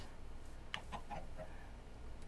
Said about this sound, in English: Bunch of chickens.